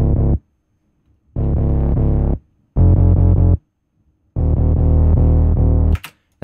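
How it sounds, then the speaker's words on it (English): A distorted synth bass layered with a sine sub bass from Serum plays four thick sustained notes separated by short silences, loud and heavy, with no talking. "So the bass and the sub bass together sound like this."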